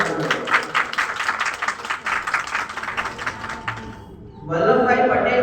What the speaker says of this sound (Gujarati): તેમના માટે જરૂરથી એકવાર તાળીઓ આપો